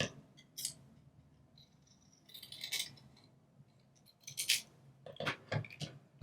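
Scissors snip paper for a handmade greeting card, several short crisp cuts in quick clusters, close and fairly quiet, with no talking.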